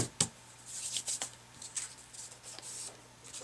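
Paper is folded and creased for an accordion book: close, quiet crisp rustles and sharp creasing swipes in short irregular bursts over a faint low hum, with no speech.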